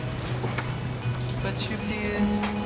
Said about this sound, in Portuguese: Está una chuva do caneco.